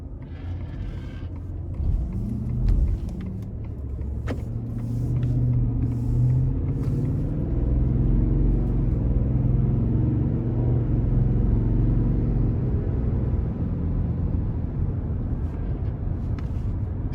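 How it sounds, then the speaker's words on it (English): A 2021 Ford F-150 XL regular cab with a 5.0 V8 and 10-speed automatic driving on the road, heard from inside as a steady low engine and road rumble that swells as it picks up speed, with light cabin creaks. "take this 2021 F-150 XL V8 regular cab out on the road"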